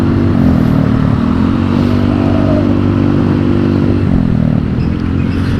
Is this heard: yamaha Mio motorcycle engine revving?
yes